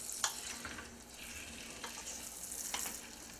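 Blackberry sauce for buttermilk pancakes is stirred in a pan, giving soft simmering sizzle with a few light scraping clicks of the utensil, fairly quiet and with no talking.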